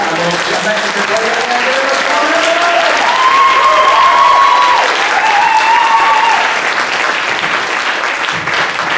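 Audience at a live talk breaking into sustained applause across a room, dense continuous clapping at full volume for the whole stretch, with a few voices faintly audible beneath it.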